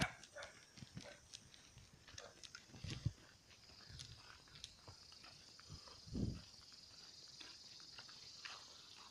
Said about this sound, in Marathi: तिथं कुत्रे आमचे स्वागत करतात भू भू करून